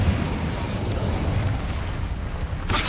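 Fire spell blast in the video game Hogwarts Legacy, a loud, sustained roaring burst with a low rumble that flares again near the end.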